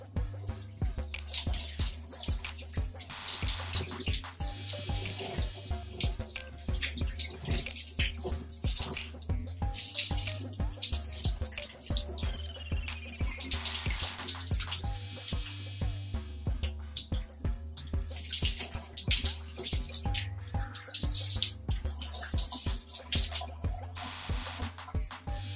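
Tap water running continuously while hair is rinsed during a wash day routine, a dense splashing stream with drips and shifting spatter, loud and close throughout.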